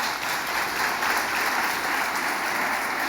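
Church congregation applauding newcomers at a Sunday service, a steady wash of clapping from many hands that holds at an even level throughout.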